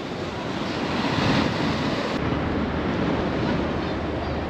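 Sea waves wash onto the beach at Blackpool, a loud continuous roar of surf mixed with heavy wind buffeting the microphone.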